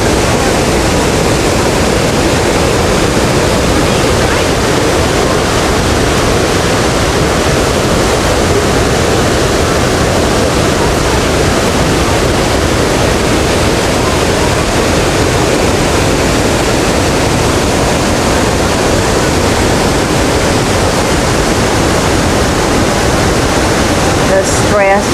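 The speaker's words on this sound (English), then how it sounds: "Awesome waterfall." A loud, steady roar of falling water rushes continuously, broad and unbroken, with no pauses throughout.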